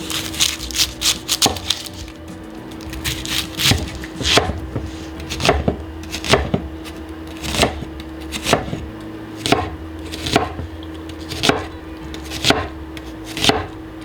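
An onion is chopped on a board with a knife, for a vegan cheesesteak, in a series of crisp, close, evenly spaced chops with a faint steady hum underneath and no talking.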